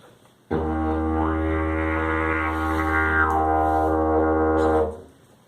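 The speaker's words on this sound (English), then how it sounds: "if I change the amount of space in my mouth, I can make the pitch go up and down" A steady, loud didgeridoo drone plays for about four seconds, its tone sweeping up and down as the mouth shape shifts, then stops.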